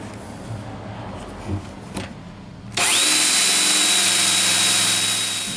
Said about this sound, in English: And now we will drill down into our second piece from the top piece.